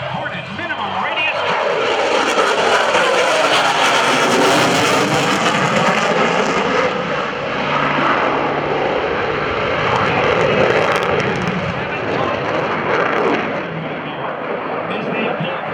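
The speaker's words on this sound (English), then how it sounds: "Watch as they demonstrate the Super Hornet minimum radius." An F/A-18F Super Hornet jet flies a minimum radius turn at an airshow, its engines producing a loud, sustained roar that swells and rumbles throughout while an announcer talks over it.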